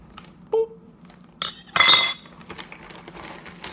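A spoon clinks against a glass bowl in a kitchen, a few bright ringing taps and a louder clattering scrape, then softer handling noises in a quiet room.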